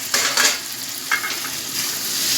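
Spice paste with tomato, ginger and cumin is sautéed in a pan on low heat for a katla fish curry. A steady close sizzle runs throughout, broken by a few short scraping stirs of the spoon against the pan.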